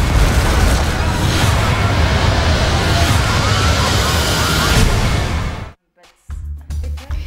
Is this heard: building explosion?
yes